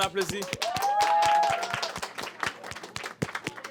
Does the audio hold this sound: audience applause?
yes